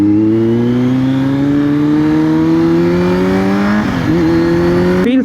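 A Kawasaki Z900 motorcycle engine with traction control turned off, loud and close, climbing in pitch through the gears, dropping off briefly at a shift, then revving up again.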